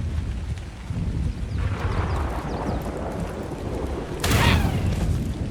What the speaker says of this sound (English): Q and right click does a fireball.